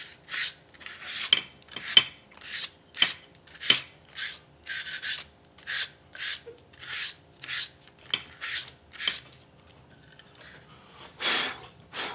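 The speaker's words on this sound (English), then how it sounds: "lightly sand to make sure we got all that chalk off of here" Fine sandpaper lightly scuffing the chalked surface of a wooden turkey box call, a run of about fifteen short, close rasping strokes in an uneven rhythm, with no talking.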